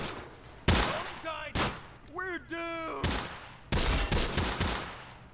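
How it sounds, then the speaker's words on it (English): Vehicle-mounted guns fire in the WWII strategy game Close Combat, set in Sicily: a handful of sharp, spaced bursts and single shots, with someone talking between the shots. "He wants to shoot at that guy"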